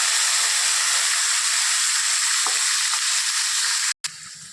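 Onion and garlic gravy hits hot oil with a loud, steady sizzle and hiss that carries on evenly, then cuts out abruptly near the end.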